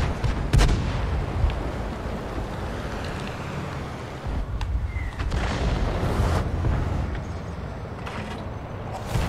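Tank cannon fire in an armored vehicle video game with a tier 6 British wheeled vehicle, heavy booming shots over a constant rumbling engine and battle noise, one strong blast early and duller thuds later.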